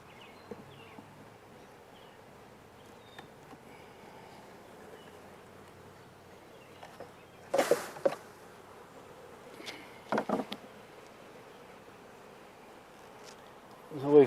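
Honeybees hum faintly around an open hive box as frames of bees are shaken into it, a low steady buzz broken by a few sharp bumps and knocks close by.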